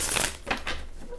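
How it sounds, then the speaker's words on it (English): A deck of tarot-style reading cards is shuffled close up in a quick riffle of crisp, papery slaps and rustles, lasting about a second. "Probably sounds kind of loud too when I shuffle"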